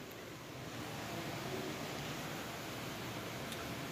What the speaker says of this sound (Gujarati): વરસાદ જો ચાલુ થઈ ગયો